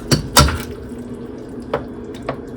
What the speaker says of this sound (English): So here is the drained pasta, and I'm just going to go ahead and pour that in there.